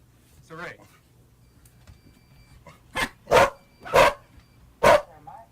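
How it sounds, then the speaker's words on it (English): A dog barks several times, a few sharp, loud, close barks in quick succession after a softer yelp, over a quiet room hum. "that's a dog barking"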